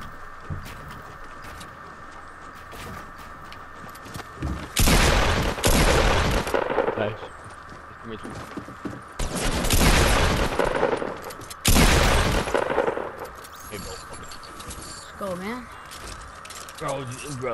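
Fortnite Battle Royale gunfire comes in three loud, dense bursts of rapid shots with quieter gaps between them, while players chatter throughout over a constant low in-game hum.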